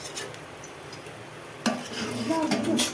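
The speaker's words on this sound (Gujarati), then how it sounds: "જો આ રીતે તેલમાં શેકાવા દેવાનું." A methi thepla flatbread is laid into hot oil on a pan, and a soft sizzle rises sharply partway through, with scraping and clinking of utensils against the pan.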